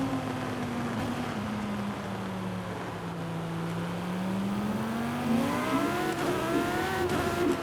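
A modified 2020 Mercedes-AMG C63 S cruising in Forza Horizon 5, its engine droning steadily, dipping then rising in pitch as it accelerates, loud and close, with no talk.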